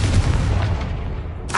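A Confringo fire-blast spell bursts in the Hogwarts Legacy video game, a sudden booming explosion with a rumbling low tail, followed near the end by a second sharp burst.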